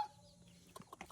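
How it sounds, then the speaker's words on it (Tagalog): Chickens at a grandmother's farm in the provinces give a few short, soft clucks near the end, faint against quiet rural background. "Tingnan niyo yung mga manok ng lola ko"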